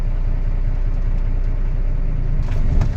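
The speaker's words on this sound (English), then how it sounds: "You'll ease off the clutch, give it a slight tug." Truck tractor in low gear pulling gently against its set tractor brake during an in-cab brake inspection, a steady loud diesel engine rumble throughout, swelling slightly near the end as the clutch is eased out.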